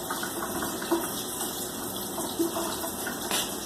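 Water running from a tap into a tablespoon for brownie batter, a continuous close gushing stream with a few small splashes.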